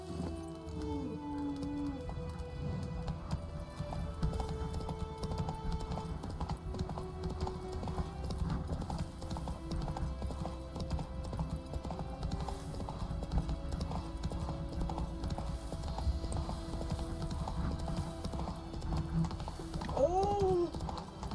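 A horse trots in a video game, hooves clip-clopping in a quick, even rhythm under music, with a voice briefly heard.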